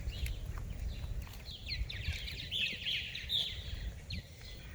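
Purple martins chirp and warble from around a birdhouse outdoors, giving faint, rapid bursts of bubbly twittering over low wind rumble and background noise.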